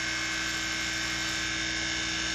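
Rotoverter-converted electric motor spinning at 3,450 RPM, giving a steady, even hum with constant high whine tones and no change in pitch throughout.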